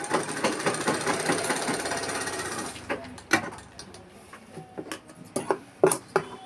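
A sewing machine stitches darts on a blouse, giving a fast, busy mechanical whir for about three seconds, then stopping; scattered clicks and knocks of handling follow.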